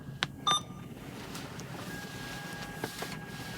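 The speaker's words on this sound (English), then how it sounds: "it automatically flips back over with a series of 6 beeps back to the primary rate that we originally programmed for our normal saline" An Alaris 8100 infusion pump module switching from a secondary rate back to its primary normal saline rate, giving a few short, sharp electronic beeps near the start and then a quiet background hum.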